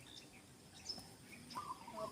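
Birds near a farm chirp in short, faint, scattered calls over quiet outdoor background, several brief tweets spaced across the moment.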